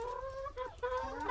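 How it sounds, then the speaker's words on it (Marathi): Hens in a freshly stocked backyard coop cluck and call in close, overlapping bursts, a steady chatter of several birds with no talking. "बघा कोंबड्या"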